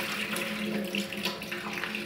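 Raw chicken pieces rinsed by hand under a running kitchen tap, a steady close rush of water splashing over the meat and into the sink, with no talk.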